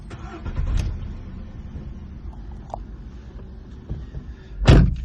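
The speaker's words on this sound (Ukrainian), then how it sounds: "Автомобіль заводиться з півоберта. Робота двигуна рівна" A 2012 Volkswagen Polo 1.6-litre petrol engine cranks and catches, then idles low and steady nearby, with a couple of knocks and a sharp clunk near the end.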